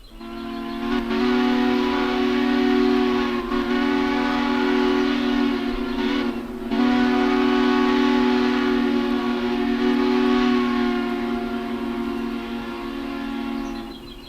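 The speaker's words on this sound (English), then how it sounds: "that is a Lehigh and New England 3 chime. Beautiful sounding big whistle." Lehigh and New England three-chime steam whistle in a Century of Steam game, a big, rich chord blown in two long sustained blasts with a brief break between, loud and steady.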